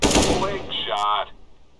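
A burst of gunfire from Counter-Strike: Global Offensive opens loud and dense, then a short tonal ringing follows before it fades, with no voices.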